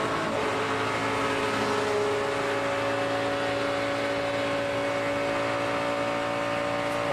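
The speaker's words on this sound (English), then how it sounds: "Sound like you could hear it was either Cole Whitt or Danica Patrick getting out of the throttle" NASCAR Nationwide Series race car at Daytona with the driver lifting off the throttle, heard as a steady, loud engine drone that holds level throughout with no clear break.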